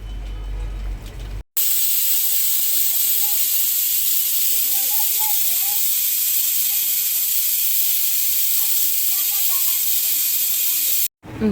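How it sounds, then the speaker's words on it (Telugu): A pressure cooker of goat head curry sits on the stove and hisses steam in one long, loud, steady jet lasting about ten seconds, with brief kitchen sounds before and after. "ఇప్పుడు ఇది కుక్కర్ పొయ్యి మీద పెట్టినాము, 10 విజిల్స్ రావాలంట"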